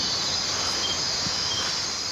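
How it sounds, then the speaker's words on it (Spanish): Insects, probably cicadas, drone in a forest at night as a steady, loud, high-pitched buzz that holds without a break for the whole stretch, with no voices over it. "Sobresale la cigarra. Su zumbido puede tornarse ensordecedor."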